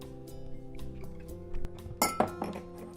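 A small cordial glass set down on a bar, several close bright clinks and knocks of glass in a quick cluster after a quieter stretch, with no talk.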